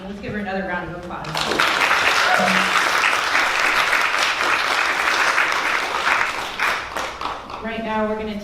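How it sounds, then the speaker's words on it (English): Sustained audience applause at a self-love talk, dense and loud for several seconds after brief speech at the start, fading back into talking near the end. "Let's give her another round of applause."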